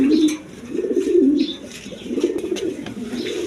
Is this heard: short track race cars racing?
no